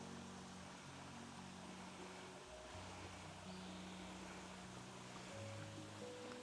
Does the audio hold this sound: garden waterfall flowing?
yes